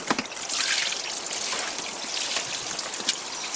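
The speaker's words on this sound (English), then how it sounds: "that I drain this all this liquid in here." Washer fluid, an alcohol and water mix, drained from a Toyota Camry windshield washer tank, a close steady trickling stream of liquid with faint splashes, heard alone for a few seconds.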